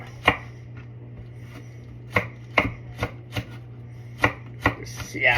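Knife chopping a long green chili on a cutting board, about a dozen sharp, crisp chops in an uneven rhythm, close and clear over a low steady hum, with no voices.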